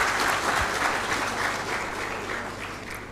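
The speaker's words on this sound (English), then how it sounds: "Please give her a big round of applause." An audience at a panel session claps for a panelist coming on stage, giving sustained, dense applause that stays loud and even before easing off slightly toward the end.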